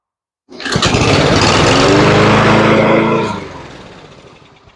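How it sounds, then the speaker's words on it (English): A Toro lawn mower with a weak-running Kohler engine sputters to life and runs loudly for a few seconds, then cuts out and winds down to quiet. "that's a pretty happy little mower"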